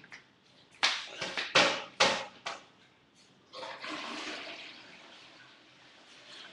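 A household toilet flushes nearby: a few sharp clunks and knocks of the handle and seat, then a steady rushing, gurgling surge of water that carries on to the end.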